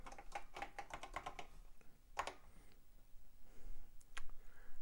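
Keys clatter on an Apple II computer keyboard, a quick close run of typing clicks followed by a few isolated keystrokes, quiet and dry.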